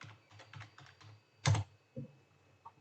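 Typing on a computer keyboard, a few scattered keystrokes then a louder thump, brief irregular taps close by with no talking.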